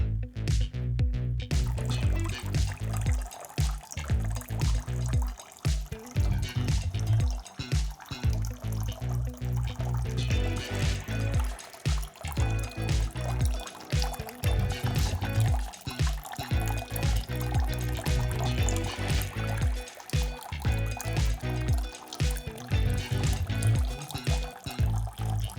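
Water drains from a tank in a continuous gurgling, trickling flow that goes on without pause, heard close and alone.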